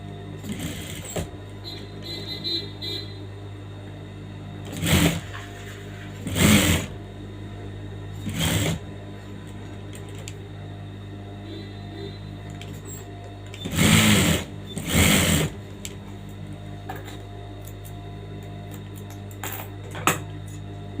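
A sewing machine stitches saree blouse lining in several short whirring bursts, separated by quiet pauses over a low steady room hum.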